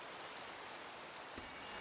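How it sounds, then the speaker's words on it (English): Steady rain hiss from the Minecraft video game fills the whole stretch, a dense even wash with one brief brighter splash near the end and no voice. "All right, go away, Rain."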